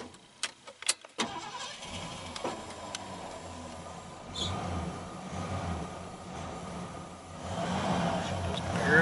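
A 1978 Mercury Marquis with a 400 engine runs rough and starved of fuel on a weak gravity feed, starting with a few sharp knocks and sputters, then settling into a steady, uneven engine rumble that builds slightly toward the end.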